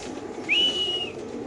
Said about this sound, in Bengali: বড় সাইজের কবুতর না ভাই?